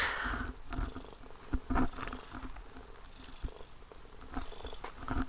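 A pet cat purrs steadily and loudly up close while its back is massaged, a continuous low rumble with occasional soft thumps and rustles.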